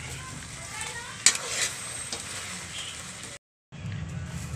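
Chicken barbecue adobo sizzles and fries steadily in oil while being stirred, with a couple of clinks from the utensil and a brief cut in the sound.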